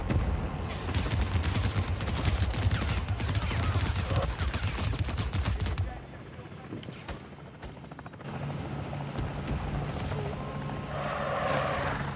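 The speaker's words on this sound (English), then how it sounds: "Chopper inbound." A helicopter arrives in the Call of Duty Modern Warfare Zombies video game, a loud continuous rotor roar mixed with bursts of gunfire that ease to a lower drone midway before building again.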